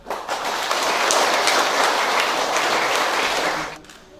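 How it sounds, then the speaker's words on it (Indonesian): Wedding guests applaud together in a sustained, dense burst of clapping that fills the space, then fades away quickly near the end. "Mari kita tepuk tangan."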